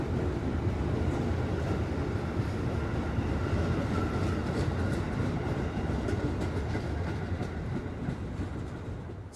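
Inside a Gajayana executive-class passenger train, a steady low rumble and rattle of the carriage rolls along the rails, continuous and moderately loud with faint clicks, and no one speaking.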